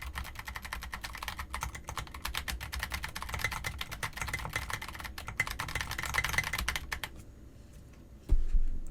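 Steady rapid typing on a computer keyboard, captured close by a Fifine K678 USB microphone, a dense run of clicks for about seven seconds before trailing off, with a single louder knock near the end.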